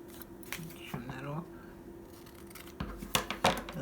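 Scissors trim a paper journaling card for a junk journal, giving a few short crisp snips and rustles close up, mixed with quiet paper handling and brief bits of talking.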